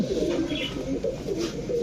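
Kaldom pigeons coo close by in a steady, low, rolling murmur that continues for the whole short stretch with no other sounds.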